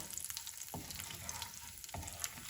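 Cashews frying in oil in a pan while a semolina idli tempering cooks, a steady close sizzle with a couple of louder stirring bursts.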